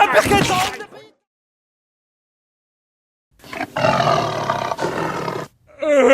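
A cartoon tiger roars loudly in The Simpsons, a burst at the start, then silence, then a longer sustained roar with a brief sharp sound at the end.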